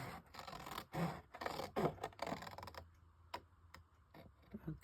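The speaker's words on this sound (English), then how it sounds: "we're going to cut just in the center, and we're going to go all the way up to that top score line" Scissors cut paper up the center toward a score line, a series of close, crisp snips and scraping slices that become sparser and quieter toward the end.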